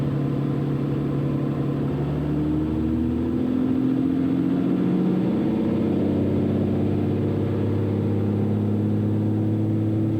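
A 2008 Cessna 400 aircraft engine climbs to full takeoff power, a loud steady drone rising in pitch and then holding a strong, even roar inside the cabin, with no talk.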